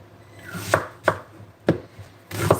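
A knife chops through a whole onion on a board, four or five sharp, separate cuts at an uneven pace, close and crisp, with no talking.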